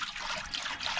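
Fresh water poured into a pot of fish sinigang with vegetables, a steady close trickling and splashing wash lasting the whole moment, with no talk.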